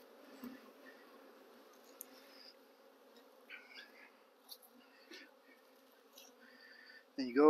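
Honeybees on a hive frame keep up a low, even buzz, quiet and constant, with scattered small taps and a sudden louder rustle at the very end.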